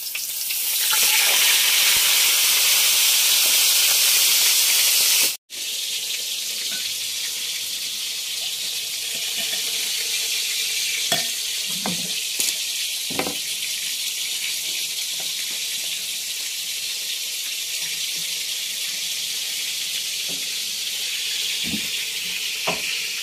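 Maya-maya fish sizzles steadily in hot oil, a loud continuous frying hiss throughout with a brief break, then quieter crackling and occasional pops and clinks.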